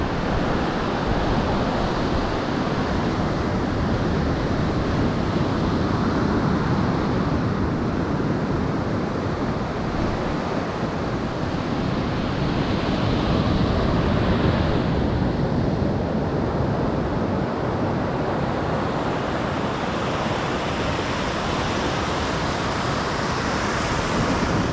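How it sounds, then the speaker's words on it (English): Steady roar of high ocean waves and gusting wind at Treasure Beach, St. Elizabeth, Jamaica, a dense continuous wash of surf and wind buffeting the microphone with no voices. "see the wave, look at the height of the wave. Very, very high."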